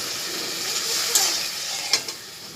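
Turmeric, ginger paste and cumin sautéing in a pan with a splash of water give a steady close sizzle and hiss, broken by a couple of sharp stirring scrapes.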